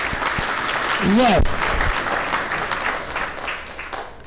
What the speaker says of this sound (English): Give them a applause.